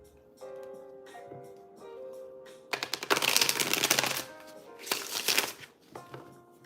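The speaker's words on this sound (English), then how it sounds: "excuse me if I keep on shuffling these cards" Playing cards being shuffled in two loud riffling bursts, with softer handling sounds and a faint tonal hum in between.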